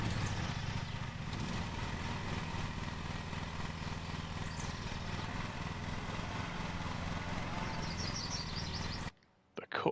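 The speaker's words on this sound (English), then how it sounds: "Get the engine started." Steady engine drone of a riding lawn mower in Lawn Mowing Simulator on PS5, running loud and continuous for about nine seconds before cutting out abruptly near the end, with voices and faint birdsong over it.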